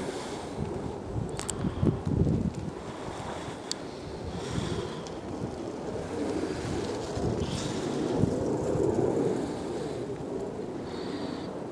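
Outdoor wind blows around an autonomous kite flying on its own, a low gusty rumble buffeting the microphone that swells and eases, with a few faint clicks and distant background noises.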